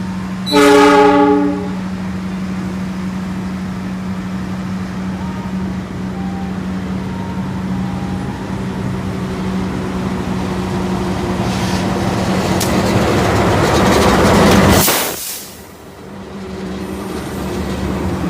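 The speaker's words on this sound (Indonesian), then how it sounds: "Kereta api Lodaya masuk dan berhenti untuk naik turunkan penumpang" A train horn sounds loudly at the start, then the steady rumble and squeal of the Lodaya passenger train rolling into a station and braking to a halt.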